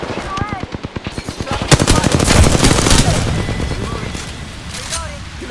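Rapid automatic gunfire rattles in tight bursts during an Apex Legends firefight, loud and close, with sustained shooting and booms layered under a player's voice.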